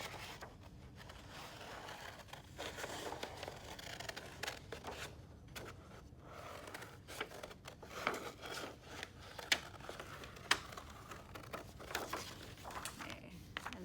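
Scissors snipping paper along a crease to cut out layered mountain shapes, a close run of soft, irregular cuts and rustles with small sharp clicks, no talking.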